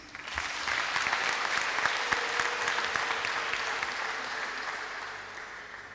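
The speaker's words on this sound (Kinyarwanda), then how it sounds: "Nagira ngo muntize amashyi tubifurize umunsi mwiza wa Saint Valentin" A church congregation applauding for Valentine's Day, a crowd's steady clapping that swells quickly and fades slightly toward the end, fairly close and without talking.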